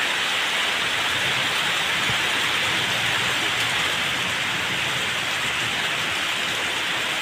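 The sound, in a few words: rain during a thunderstorm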